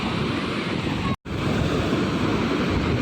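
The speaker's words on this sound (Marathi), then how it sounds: "पाण्याच्या लाटा इथपर्यंत येत आहेत" Sea waves surge up onto the shore in a steady, loud broadband wash with wind buffeting the microphone, briefly cut by a short dropout in the middle.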